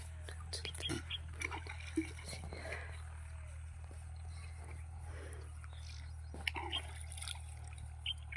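Water is poured over a buffalo's head on a farm, giving soft intermittent splashes and trickles over a steady low hum.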